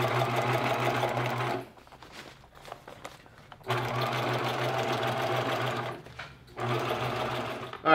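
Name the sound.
sewing machine sewing backpacking chair top closed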